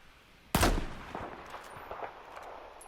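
A single sharp sniper rifle shot in Battlefield 4 cracks out loudly, followed by a long rolling echo and scattered fainter distant sounds.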